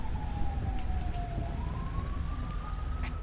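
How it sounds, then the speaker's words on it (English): An ambulance siren in the video game FivePD rises and falls slowly over a steady low engine rumble, continuous and moderately loud, with no voices. "the ambulance is coming"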